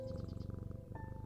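Cat purring when petted in the puzzle video game Strange Antiques, a soft, quick rhythmic purr pulsing evenly under a faint musical tone for just over a second.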